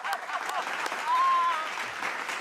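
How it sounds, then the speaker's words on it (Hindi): Audience applause at a live Hindi comedy show in Gorakhpur, a steady wash of many hands clapping for about two and a half seconds, with a host's voice faintly over it. "ताली बजा दो।"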